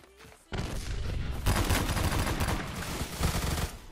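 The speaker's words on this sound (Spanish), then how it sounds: "Me están disparando." Sustained video game gunfire rattles in dense, overlapping bursts, loud and continuous for several seconds after a quiet start, as shots are traded in a shooter match with a Redhawk .44.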